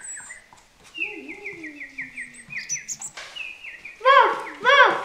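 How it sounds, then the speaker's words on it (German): Birds chirping during a walk in a royal forest, with quick repeated tweets and trilling calls in bursts, fairly close and clear, ending in louder harmonic chirps. "Oh, wie die Vögel heute wieder zwitschern."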